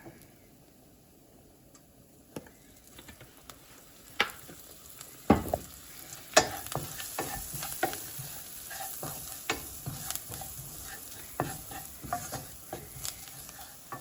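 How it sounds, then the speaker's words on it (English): Seasoning sizzles and fries in oil in a pan for a shrimp curry, with a steady crackle under repeated sharp scrapes and taps of a utensil stirring, loud and close throughout. "give it a nice saute"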